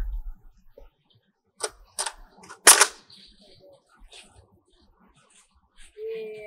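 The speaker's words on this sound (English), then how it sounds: "So next, we'll go ahead and try the Nerf gun." A Nerf gun launches a tennis ball outdoors: a few sharp pops and clacks as it is loaded and fired, with one loud snap, followed by quieter handling and a brief voice at the end.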